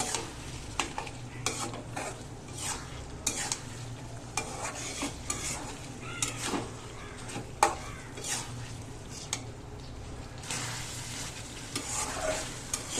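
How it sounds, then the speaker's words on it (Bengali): Baim fish sautéing with spices in a pan, a close, continuous sizzle broken by frequent rhythmic scrapes and clacks of a utensil stirring against the pan. "এটাকে এখন ভালো করে একটু কষায় নিতে হবে মাছের ভিতরে মশলাটা ঢুকে যায়"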